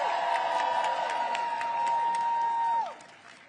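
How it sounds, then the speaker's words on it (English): Crowd applause at an outdoor protest against DOGE and Elon Musk at the consumer protection agency, steady clapping and cheering with a held tone through it, cutting off sharply near the end. "Please give them another round of applause."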